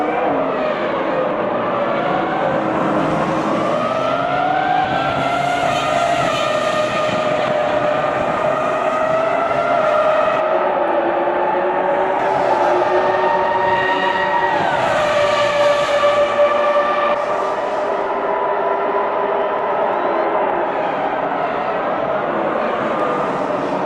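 High-revving Formula One engines of Ralf Schumacher's Williams-BMW and Jenson Button's Benetton racing at the 2002 US Grand Prix, a loud continuous whine rising and falling in pitch as the cars shift and sweep through a corner.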